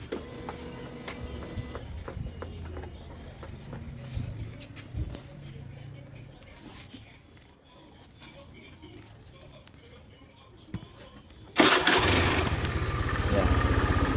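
A smoking motorcycle under repair is started: after a stretch with someone talking over light workshop clatter, the engine catches and runs as a loud, steady near idle to the end.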